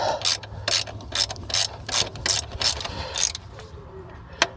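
Ratchet wrench tightening a bolt on the thermostat housing of a Chrysler 2.4L World Engine in a truck, a close, steady series of loud clicking strokes in repeated bursts over a low background hum.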